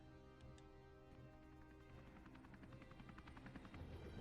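Steady mechanical whirring and rhythmic rotor-like pulsing from a helicopter in Final Fantasy VII Remake, continuous and moderately loud with clicky game sounds layered over it.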